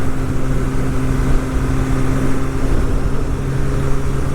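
An MV Agusta 1090 Corsa motorcycle engine drones steadily and loudly up close, a low, even exhaust note holding without pause and with no voices over it.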